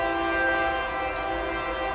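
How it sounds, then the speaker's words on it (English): A Kansas City Southern Railroad train sounds its horn in a long, steady, loud blast, with the rumble of rail cars underneath and no talking. "Kansas City Southern Railroad, right on time."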